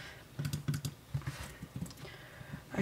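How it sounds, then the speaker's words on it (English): Faint clicking of a computer mouse or keys in the background, a loose, irregular patter of small taps with no voices. "I can really hear the mouse clicking in the background"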